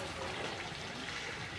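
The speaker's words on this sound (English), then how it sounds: "We are at a beautiful garden and beautiful waterfall." Garden waterfall at Negro Palace in Cotonou, Benin, giving a continuous broad rush of falling water, fairly faint and steady throughout.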